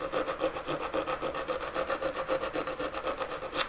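A hand file works casting lines off a metal casting in quick, even back-and-forth rasping strokes, close and quiet, about seven or eight strokes with no voices.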